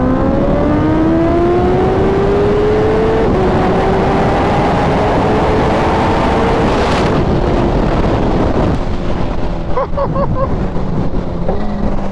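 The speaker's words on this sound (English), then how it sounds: "I just gave it full throttle in second and it stayed down" Kawasaki Ninja H2 motorcycle, ECU-flashed, dyno-tuned and lowered, accelerating at full throttle in second gear, engine pitch climbing steadily and loud under heavy wind roar, then easing off near the end.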